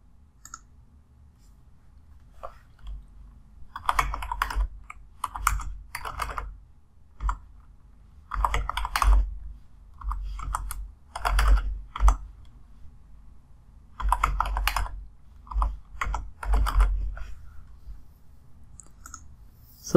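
A new password is typed on a computer keyboard in bursts of crisp, close key clicks separated by short pauses, in a quiet room with no talking.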